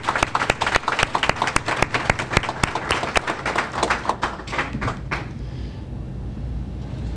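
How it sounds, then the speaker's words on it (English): A crowd applauds graduates at a business exchange launch event, a dense burst of clapping that holds for several seconds and then tapers off into quiet room tone. "a round of applause"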